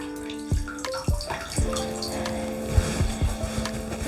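A soaked cutting mat lifted out of bath water, with splashing, dripping and sloshing, several sharp knocks and a sustained tonal ringing from the tub, close and moderately loud.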